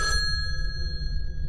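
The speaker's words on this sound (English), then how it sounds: "We got the phone ringing right off the bat." A phone rings in the horror video game Dead Catch, a bright bell-like ring that cuts off quickly over a low rumbling background.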